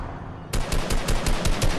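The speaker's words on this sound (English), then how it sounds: "shots from over near the bridge area" Rapid automatic gunfire from a Fortnite match starts abruptly and rattles on in quick, loud, evenly spaced bursts with no talking.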